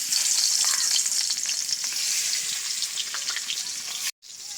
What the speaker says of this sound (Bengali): তেল গরম হয়ে গেছে, এবারে মাছগুলো দিয়ে ভেজে নেব।